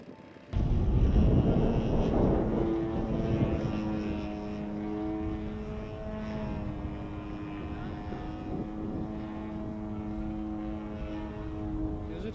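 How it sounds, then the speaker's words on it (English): An RC model Russian Sukhoi aerobatic airplane with a 97-inch wingspan and an 85cc engine swinging a 28-inch prop drones steadily throughout, loud and close after a sudden start, its engine tone holding level with slight shifts as it flies. "This is the Russian Sukhoi aerobatic airplane. It's a 97-inch wingspan with an 85cc engine swinging 28-inch prop."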